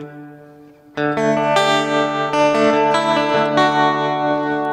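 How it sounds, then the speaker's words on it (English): Electric guitar played through a Fender Tre-Verb pedal with the tremolo feeding into the reverb: a quiet lingering note, then a loud strummed chord and several more chord changes, each ringing out in a sustained, shimmering wash with no talking. "So there we have the trem going into the reverb."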